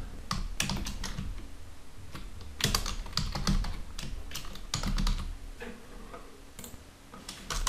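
Code is typed on a computer keyboard in quick, uneven bursts of crisp, close key clicks, with short pauses between runs and no talking.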